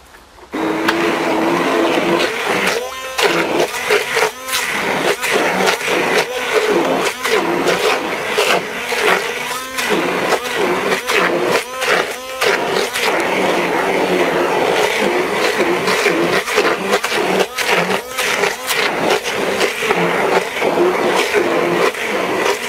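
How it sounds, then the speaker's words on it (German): A Philips 600-watt kitchen mixer churns water and chopped biomass, including apple pieces, for a small biogas setup, a loud continuous motor whir with rattling chunks, running alone for over twenty seconds. "jetzt habe ich hier so ein Philips Mixer 600 Watt"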